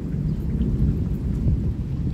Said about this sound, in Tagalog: Ayan yung tunog ng kulog.